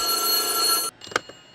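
Telephone ringing in the White Day: A Labyrinth Named School video game, a bright electronic bell tone sounding steadily for almost a second, then cut off into quiet with a faint click.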